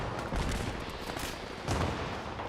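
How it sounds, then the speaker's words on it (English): Explosions and gunfire in the video game Fallout 76, a dense continuous rumble of blasts and shots with two louder bursts, filling the clip with no talk. "Seeing a lot of explosions"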